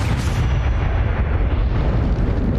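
The Expelliarmus spell effect in the Hogwarts Legacy video game, a loud, heavy blast with a booming low rumble that holds for a couple of seconds, with no speech over it.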